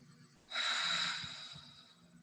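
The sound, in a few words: deep breathing during meditation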